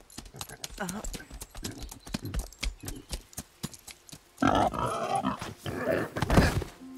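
Horse hooves clip-clop in a French animated children's series, a run of light rhythmic knocks with louder bursts toward the end, mixed with other noises and no clear talk.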